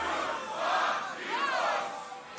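At a beatbox battle, a crowd shouts a countdown in unison, two loud swelling group yells in quick succession that fade between them.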